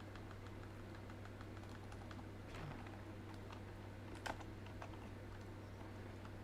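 Faint, quick clicks of typing on a computer keyboard run at a close, quiet level over a steady low hum.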